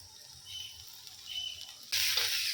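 Winter vegetables for veg momo cooking without added water in a covered pan, giving a soft steady sizzle and hiss that swells briefly then jumps louder near the end, with no talking.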